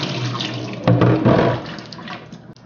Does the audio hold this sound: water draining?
yes